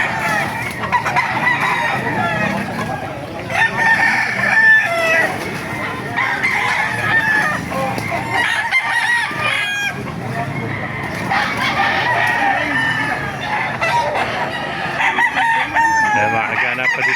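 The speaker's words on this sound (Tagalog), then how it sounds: "Ganda ng mga manok dito." Chickens and roosters at a busy outdoor poultry market in Baliuag, with repeated crowing and clucking from several birds at once, some near and some farther off, over a steady crowd din with faint talk.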